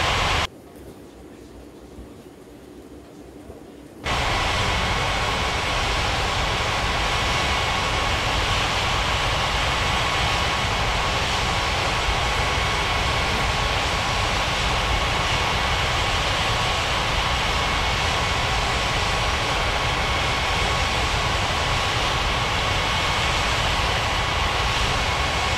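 Jet aircraft rumble in an air traffic control video game: a loud, continuous broadband engine roar sets in after a brief quieter stretch and holds steady throughout.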